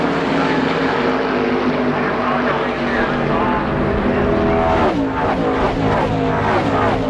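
Loud ARCA stock cars racing at Michigan Speedway in the 1997 Jasper Engines 200, engines roaring continuously with a pitch-shifting pass-by near the end.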